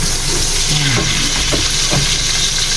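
Butter frying in a pan at home during dinner cooking, a steady close sizzle with a few light scrapes and stirring clicks over about three seconds.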